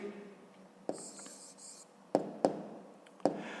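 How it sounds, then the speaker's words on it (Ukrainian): A pen writes an answer by hand on paper, with soft scratching strokes and several sharp taps of the pen against the page. The sound is close and quiet, with no voices. "Пишемо відповідь."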